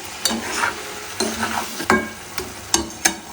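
Spinach stems fry in a pan after a splash of water is added. A soft sizzle runs under repeated sharp clacks of a spoon stirring against the pan, close up, with no talking.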